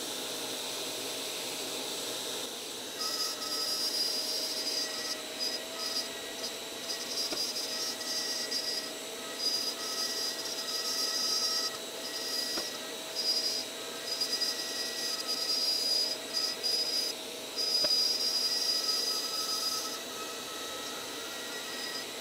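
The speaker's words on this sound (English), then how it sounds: "For these cuts, you just move the router around," A Shaper Origin handheld router cuts a pocket for a wood inlay, giving a steady, continuous high whine with faint tonal hum. It starts after a brief quiet moment and runs close and even to the end, with no talking.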